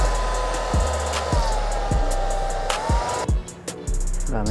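A hair dryer blows with a steady high whir during a barbershop haircut, close and loud, while a rhythmic thumping repeats underneath and the airflow briefly cuts out near the end.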